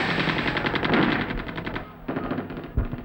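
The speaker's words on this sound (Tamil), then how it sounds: "துப்பாக்கி சத்தம்," Machine gun fire used as a sound effect in a Tamil action film: a rapid, loud burst of close shots that breaks off briefly and then starts again, with a heavier thump near the end.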